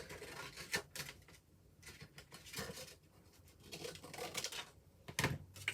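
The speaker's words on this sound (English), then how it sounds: "I'm going to take this away off camera and trim it real quick" Scissors trimming paper for an altered box craft, a series of quiet, close snips and paper rustles in uneven bursts with short pauses between, alone in a quiet room.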